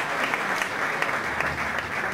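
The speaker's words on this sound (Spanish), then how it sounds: "un aplauso también" An audience at a political forum in Argentina gives a dense, continuous round of applause, a loud and even crowd sound that fills the room for its whole length.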